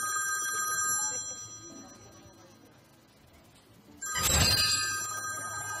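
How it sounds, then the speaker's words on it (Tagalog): A telephone bell rings out suddenly and loud after a quiet stretch, a bright metallic trill that keeps going to the end, with faint background sound before it. "Rogelio, telepono"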